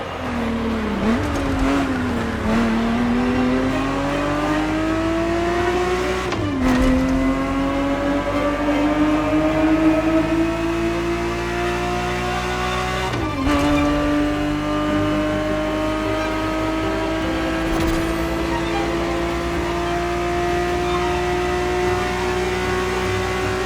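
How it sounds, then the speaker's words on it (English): A Ferrari 365 GTB4 engine races in The Crew Motorfest, a loud, close, continuous drone that climbs steadily through the revs, with two clear gear shifts interrupting the rising pitch. "The Ferrari 365 GTB4 is the perfect vehicle for you to experience Ferrari racing as it felt back in the 70s"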